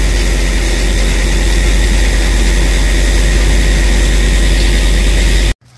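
Massey Ferguson 750 combine harvester engine running loud and close in a barley field, a dense steady roar without voices that cuts off abruptly at the end.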